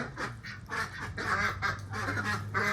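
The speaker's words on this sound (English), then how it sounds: "There's my ducks." Several ducks quacking in short, repeated bursts, moderately close and fairly soft, with a low steady background hum underneath.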